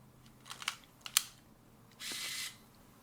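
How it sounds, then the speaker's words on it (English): A Rollei 35AF camera gives a few small mechanical clicks, then its autofocus motor makes a short, harsh whir that lasts about half a second, close and fairly quiet. "that autofocus sounds like a screeching dinosaur"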